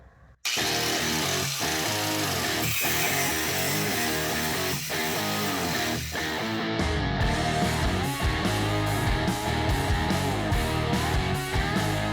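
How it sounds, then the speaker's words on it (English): An angle grinder bites into a hardened hammerhead, a loud sustained whine and rasp that carries on unbroken for over ten seconds, close up with no voices over it. "The grinder is a pretty mean tool."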